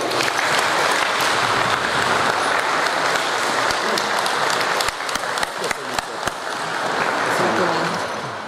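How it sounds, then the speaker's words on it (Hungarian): Spectators at a memorial football tournament give the third-placed FC Hold team a loud, sustained round of applause. Dense clapping continues without a break for several seconds, with a few sharper claps standing out near the end. "egy nagy tapsot kérek az FC Holdnak!"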